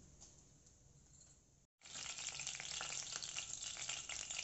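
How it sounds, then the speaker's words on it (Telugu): Curry leaves frying in hot oil in a pan for prawn curry: a quieter sizzle before a brief silent gap, then a loud, dense, steady crackling hiss that holds for the rest of the clip. "కూర కోసం పాన్ పెట్టుకొని ఇలాగ ఆయిల్ వేసుకుని కాగాక కరివేపాకు కొంచెం వేసుకోవాలండి."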